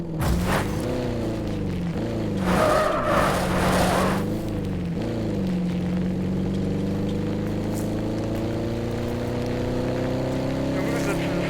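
A four-wheeler revs and drives in a video game, its engine drone rising and falling in pitch steadily and close, with a louder burst of noise mid-way and faint talk in places.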